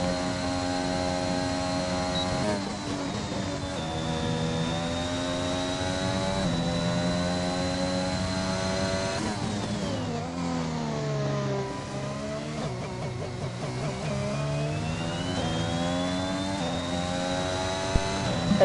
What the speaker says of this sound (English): I'm going to mute so you can just enjoy the engine sounds